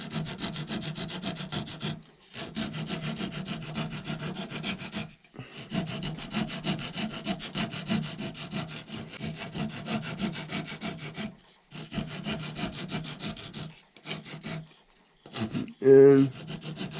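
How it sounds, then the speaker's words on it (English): A 4-in-1 rasp files a powder horn in repeated rhythmic rasping strokes, bursts of scraping separated by short pauses, close and clear, with a brief tonal sound near the end. "I will take the trusty 4-in-1 rasp."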